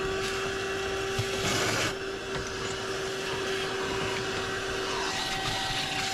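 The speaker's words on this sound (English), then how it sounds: "Let me get the vacuum" A vacuum cleaner runs steadily inside the cab of a Chevrolet C10/C20 squarebody truck, a loud continuous whine with a steady tone, and its pitch shifts briefly as the nozzle catches debris.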